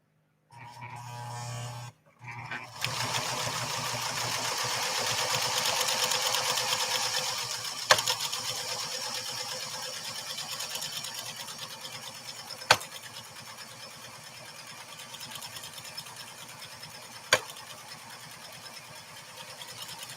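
A PFAFF 360 sewing machine stitches through leather in a steady, continuous mechanical whir that runs nearly the whole time after a brief start and pause, with a few sharp clicks scattered along the way.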